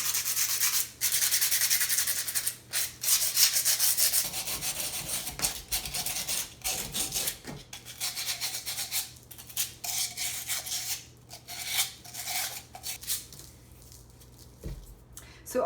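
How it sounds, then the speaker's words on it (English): Close-up gritty sanding strokes rasp back and forth across small concrete pieces in irregular bursts, with short pauses between passes. "I'm just going to start just sanding a few pieces down here"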